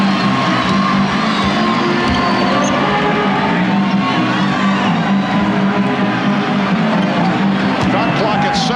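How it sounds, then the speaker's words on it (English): A basketball arena crowd at the 1995 NBA Finals, Houston Rockets versus Orlando Magic, roars and cheers steadily as a broadcast commentator talks over the constant loud din. "And now the crowd trying to get into it."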